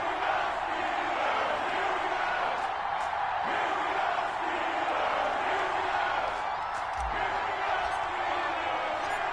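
Stadium crowd in an EA Sports NFL video game, Cincinnati Bengals versus Pittsburgh Steelers, roars as a dense, steady wall of noise with scattered shouts and a few thuds throughout.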